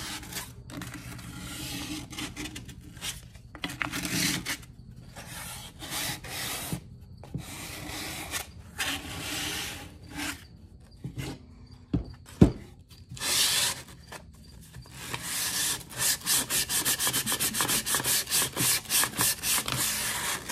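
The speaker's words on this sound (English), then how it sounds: "I'm just hand sanding" A small wooden crate is rubbed by hand with sandpaper in short bursts of scratchy strokes along the edges, pausing between passes, then speeding into a quick rhythmic back-and-forth near the end.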